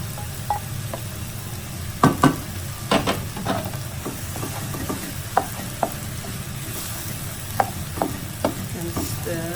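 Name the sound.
stirring frying rice for nasi goreng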